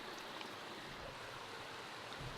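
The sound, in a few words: stream flowing on a hiking trail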